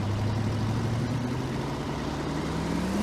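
Video game kart engine from Chaos Kart whose buzzing pitch climbs smoothly as the kart gains speed, a continuous synthetic whine heard alone.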